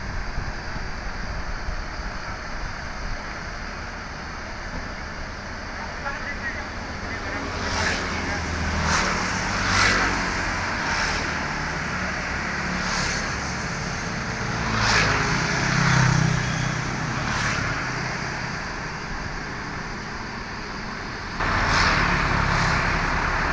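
An ALS bus with a Mercedes-Benz OHA 1526 engine and Tentrem bodywork drives along, a steady engine rumble and road roar with wind noise and occasional rattles and clunks, heard from inside the cabin.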